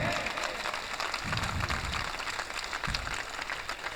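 Audience applause at a Hindi poetry recital, a dense, continuous patter of many hands filling the hall at an even level throughout.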